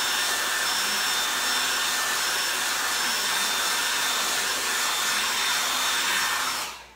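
Hair dryer blowing steadily on wet paint, a loud close whooshing roar with a faint motor whine, running unbroken and alone before cutting off at the end.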